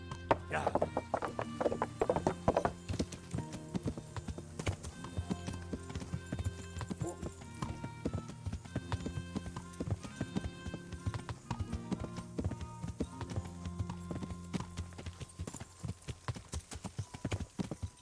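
Horse hooves clip-clop steadily in the video game Kingdom Come Deliverance, a close rhythmic plodding that runs throughout, with a neigh and other game sounds mixed in and faint talk underneath.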